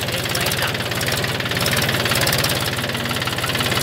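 A brand-new Mahindra 265 DI tractor idles close by, its diesel engine giving a steady, loud, throbbing knock with a fast, even pulse throughout.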